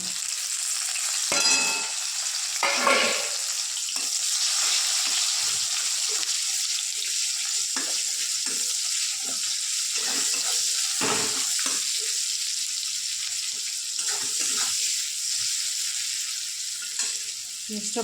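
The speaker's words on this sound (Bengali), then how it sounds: "পেঁয়াজটা ভাজা হবে।" Sliced onion sizzles steadily in a pan with whole garam masala and is stirred now and then, the scrapes coming in short bursts over a constant close frying hiss, with no talking.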